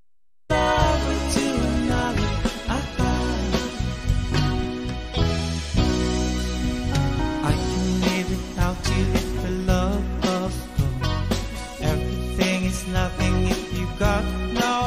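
A full band plays a cover of a song steadily, with a keyboard laying down lush, sustained string-like chords under the mix for the whole passage.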